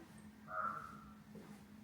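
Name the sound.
crows cawing on a columbarium roof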